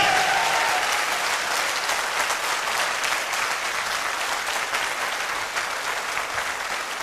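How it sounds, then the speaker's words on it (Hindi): Loud, sustained applause from an audience at a Hindi motivational talk on network marketing, a dense crowd clapping steadily throughout and tapering slightly near the end. "तालियां बजानी है तो तसल्ली से बजा दो"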